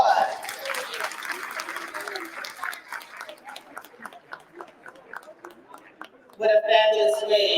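An audience at a councilwoman's inauguration ceremony applauds a performing group, the clapping strongest at first and then thinning while people talk over it.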